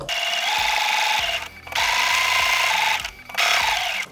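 A sewing machine quilting a chevron design runs in steady, loud whirring bursts with a fast, even needle rhythm. It stops briefly twice between runs.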